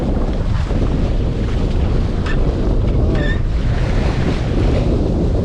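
Loud, steady rush of wind and sea water washing around a sailboat in 40 cm waves, continuous throughout, with a couple of faint creaks.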